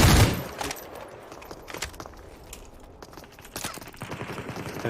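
Bursts of rapid gunfire in the game Super People, including an MP5, sharp cracks and short volleys, some near and loud, others fainter, scattered across a few seconds.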